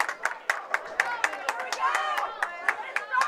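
Spectators at a high school bowling state qualifier clap in a sharp, irregular patter mixed with raised voices and cheering. The sound is close and lively and continues the whole time.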